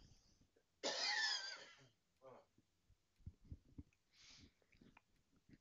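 One person gives a loud, harsh cough while suffering a lingering throat tickle, followed by softer throat-clearing noises and quiet breathy sounds close to the microphone.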